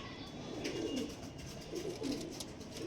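Pigeons of high-quality fancy breeds coo softly in a few low, throaty rolling phrases, faint and somewhat distant, with no speech.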